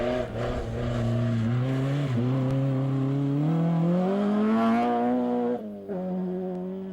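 An Opel rally car races along a Finnish winter stage, its engine droning and revving steadily upward through the gears with brief lifts between shifts, loud and continuous.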